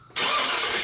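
A Chevy truck engine cranks and catches abruptly after a brief quiet moment, then settles into a steady, loud, close running roar.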